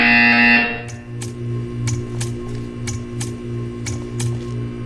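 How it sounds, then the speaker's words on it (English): Buzzer in the video game Portal 2: a loud electronic tone opens, then a regular series of sharp pulses repeats about twice a second over a low electronic hum. "When you hear the buzzer, stare at the art."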